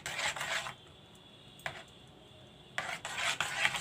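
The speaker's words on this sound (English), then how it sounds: "So little by little I will put the maida and mix it." Maida flour is stirred little by little into cake batter in a bowl, giving soft scraping, rubbing strokes in two bursts separated by a quieter pause, close and fairly faint, with no talking.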